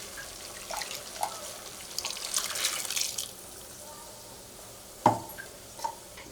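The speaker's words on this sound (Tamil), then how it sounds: "இப்போ நம்ம குவான்டிட்டிக்கு தேவையான அளவு நான் தண்ணியை ஊற்றிருக்கேன் நான்" Water poured into a pot of chicken kulambu, a soft splashing trickle up close with scattered clinks and taps of utensils, fairly faint, no talking.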